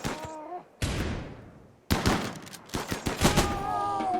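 Gunfire in the colony video game RimWorld: several sharp shots and short bursts with decaying tails and brief pauses between volleys, under faint game sounds.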